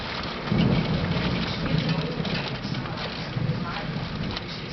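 A severe thunderstorm with a bow echo brings steady heavy rain and a low rolling rumble of thunder that continue throughout, loud and close, with no speech.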